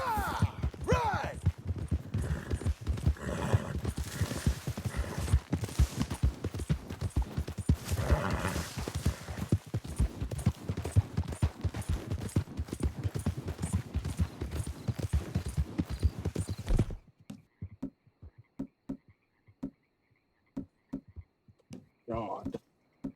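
Horses ridden in the Red Dead Redemption 2 game clip-clop steadily and loudly for about seventeen seconds amid riders' voices and occasional whinnies, then the hoofbeats stop and only sparse talk remains.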